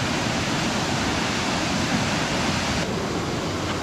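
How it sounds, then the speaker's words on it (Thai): Water rushing through a gap in a weir at a night fishing spot, a steady loud broadband roar without pause, with no voices over it. "เป็นน้ำไหลเป็นช่อง"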